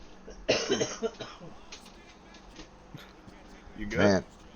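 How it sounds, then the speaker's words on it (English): A woman coughs nearby, a harsh burst of several coughs, then a pause and another single strong cough with throat clearing, with faint talk in the background. "my wife was coughing"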